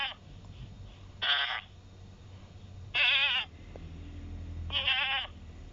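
A goat in a video game bleats three times in spaced, wavering calls, clear and fairly loud over a low steady game background hum.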